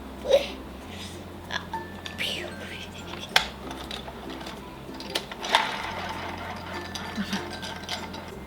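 An icard keychain-making machine is hand-cranked to cut a shape, giving soft, scattered ratcheting clicks and gear ticks at a low, even volume, with a sharp tick every few seconds.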